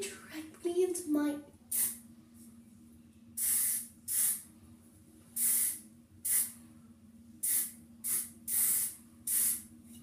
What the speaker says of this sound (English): Yep, it helps your hair stick. Although it smells really good. I sprayed it directly into my.